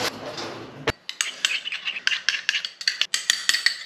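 A spoon clinks rapidly against a cup or small bowl, stirring monk fruit sweetener into sugar-free syrup in quick rhythmic taps after a short rustle, close and crisp, with no voices.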